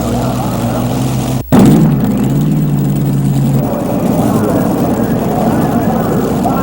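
A tractor-pull machine with five 1,600 horsepower V8 engines running at full power at the 1986 NTPA Bowling Green event, a loud, continuous roaring drone with a brief dip early on, under an announcer's talk.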